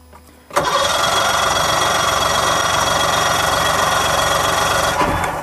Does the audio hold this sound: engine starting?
yes